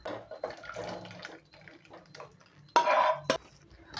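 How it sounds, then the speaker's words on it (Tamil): Onion mor kuzhambu is ladled from one cooking vessel into another, with a handful of close metallic clinks and scrapes and a brief pouring, sloshing burst partway through. "இப்போ நம்ம இதை எடுத்து வேறு ஒரு பாத்திரத்தில் மாற்றிக்கலாம்"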